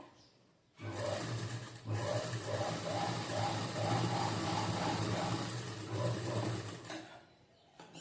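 A sewing machine runs a top-stitch line along a strip on a four-tuck blouse, giving a continuous close mechanical whir with a fast needle rhythm for several seconds, a brief pause, then more stitching before it stops.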